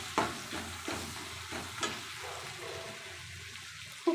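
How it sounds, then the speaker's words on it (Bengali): Dal poured into hot oil for tempering with fennel paste, ginger paste and asafoetida, giving a steady sizzle with scattered stirring scrapes and taps, moderately quiet and close. "अब मैं डाल को डालूंगी फोड़नी देने के लिए।"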